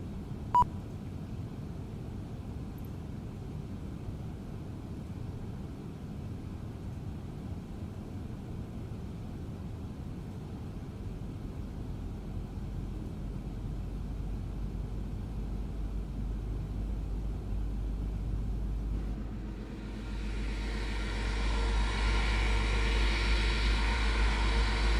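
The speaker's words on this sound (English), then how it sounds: "Starting engine 2." Engine 2 of an IAE-powered Airbus A321 spooling up in Microsoft Flight Simulator 2020, a low steady cockpit hum that swells into a broad rising jet roar over the last few seconds, with no talking.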